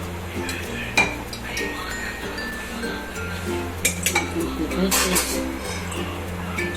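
A metal ladle clinks and scrapes against a pan while scooping excess oil for a stuffed onion, potato and brinjal shak. The sharp knocks come a few at a time under a speaking voice.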